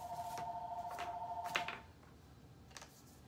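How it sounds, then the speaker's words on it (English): A mobile phone rings with a steady warbling tone for over a second, then cuts off. A few sharp handling clicks follow in a quiet room. "Sorry, my phone's ringing."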